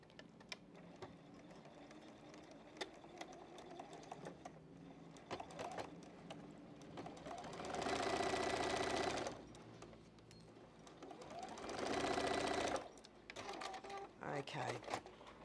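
A sewing machine stitching a beginner's mosaic quilt block runs in two steady whirring bursts of a second or two each, separated by handling noises, with a person talking around them.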